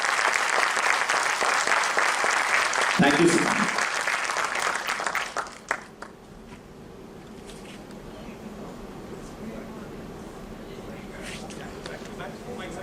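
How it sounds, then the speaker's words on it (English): Audience clapping loudly to welcome a speaker at a leadership lecture, a dense burst lasting about five seconds that then fades into quiet room noise, with a short spoken thank-you near the end. "I think it deserves a louder clap."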